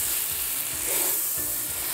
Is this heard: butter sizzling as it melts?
yes